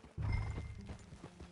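A horse whinnies loudly up close, followed by a few hoof clops on hard ground.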